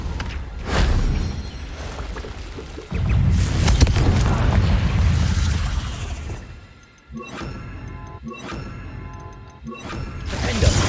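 Repeated Confringo spell blasts in the Hogwarts Legacy video game during a duel: loud booming, crashing explosions with shattering debris, a dense rumbling stretch followed by several sharp separate impacts.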